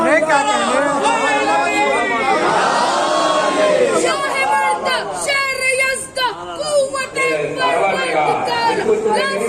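A crowd at a religious majlis gathering roars chanted slogans in loud, overlapping voices that rise and fall in bursts throughout.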